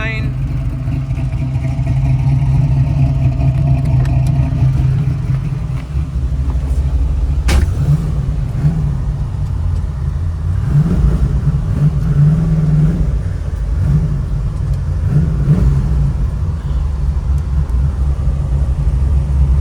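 A 1966 Chevy Nova (Chevy II) with a built small block V8 and 4-speed running with a collector gasket exhaust leak, a loud continuous low rumble with revving swells and ticking, someone talking over it.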